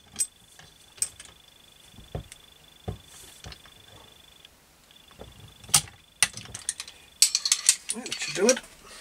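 A ratchet wrench clicks in short, uneven bursts as it snugs up the flywheel nut on a Husqvarna CT65 / KTM SX65 motocross engine held by a flywheel holder, close and fairly quiet, with a few clanks of tools between strokes.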